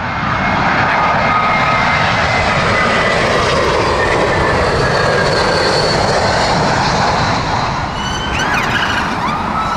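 A passenger aircraft arriving at Heathrow Airport in crosswinds gives a loud, sustained engine roar that fills the whole span and holds steady up close, with no voices.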